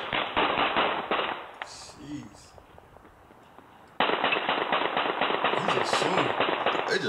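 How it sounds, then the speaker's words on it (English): Rapid gunfire from a drive-by shooting crackles across a Pittsburg neighborhood, two long bursts of dense, sharp shots with a quieter gap between them, heard from a distance. "he's just shooting."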